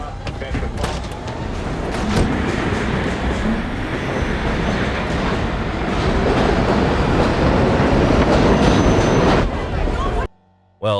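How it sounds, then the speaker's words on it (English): An R-143 subway train rumbles loudly and steadily with clattering wheels as it accelerates, the noise building and holding for several seconds before cutting off abruptly. "the subway train that starts moving just as the police officers get in"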